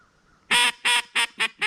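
Five loud, choppy nasal quacks from a DC duck call imitating a blue-winged teal hen: close and clear, in a quick descending sequence with a higher cadence than a mallard, played alone with no talking.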